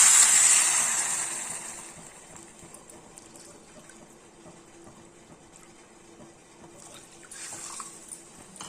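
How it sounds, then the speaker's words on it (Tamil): Water is poured into rice flour to make kara adai batter: a loud, close splashing pour at the start that quickly fades into quieter trickles and faint kitchen sounds. "அதுக்கு 2 கப்பு தண்ணி விட்டுக்கலாம்."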